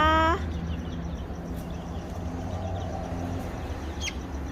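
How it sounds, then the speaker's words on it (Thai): Frizzle Silkie chicks on a farm let out a sharp rising peep at the start and another brief chirp later, set against a steady low background hum. "นี่เป็นลูกไก่ซิลกี้ขนกลับนะคะ"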